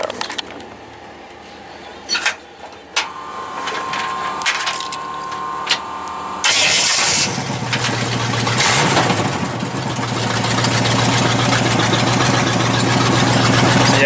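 A loud prerunner truck engine, a vehicle with a known fault, fires up after a few clicks and clunks, then settles into a steady, heavy, continuous rumble close by.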